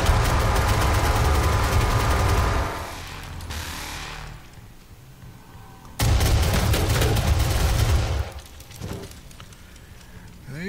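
Sustained bursts of rapid gunfire from the first-person shooter DOOM in SnapMap mode, roughly two and a half seconds each with a lull between and a faint shot at the end, loud and close.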